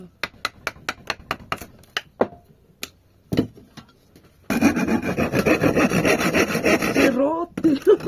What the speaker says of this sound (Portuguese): Serrote.